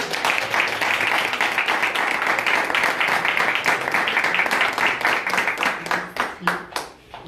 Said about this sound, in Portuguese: Aplausos a Jesus.